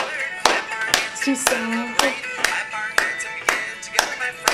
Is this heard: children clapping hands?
yes